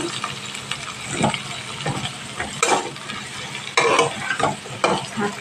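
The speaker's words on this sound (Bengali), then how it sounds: "এখানে আলু ঝিঙেটা দেব দিয়ে ভেজে নেবো ভালো করে বেগুনটাও দিয়ে দেবো" Potato, ridge gourd and eggplant frying in a pan, with steady close sizzling broken by repeated scraping stirs and clatters of a spatula.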